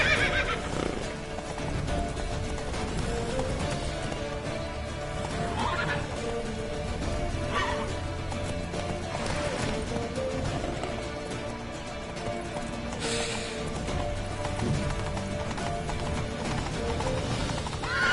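In The Witcher 3 game, a horse whinnies several times while its hooves clip-clop steadily, both loud and close, with a few scattered impact noises and no talking.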